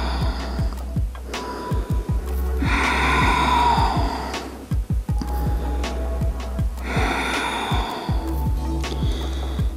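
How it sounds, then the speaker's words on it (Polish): Slow, steady breaths during yoga in child's pose, each long inhale and exhale rising and falling in a regular rhythm over a low continuous hum, close to the microphone. "Wyrównujemy oddech."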